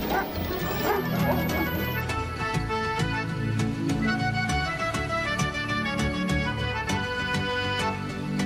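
Dogs bark, yip and whimper repeatedly as a sound effect on a radio comedy show, the calls dense and close over a busy background with talk mixed in.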